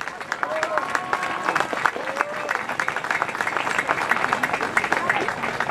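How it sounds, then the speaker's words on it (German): Audience applause for a guest named Bertl Neubauer at a talk event in Oberndorf, dense steady clapping across the whole stretch with faint voices mixed in. "Einmal einen großen Applaus für unseren Bertl Neubauer."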